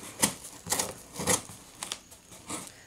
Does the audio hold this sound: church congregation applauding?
no